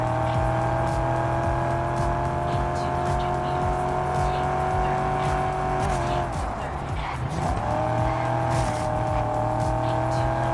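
A car drives in the racing game TDU Solar Crown, with a loud, steady engine drone running throughout, a brief dip and swell in pitch midway, and some tire noise.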